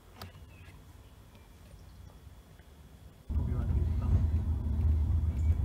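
A 2011 Volkswagen Transporter T5 Kombi van with a 140hp engine drives along, a low steady rumble that swells suddenly louder partway through, heard from inside with no talk.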